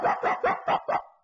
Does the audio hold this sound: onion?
no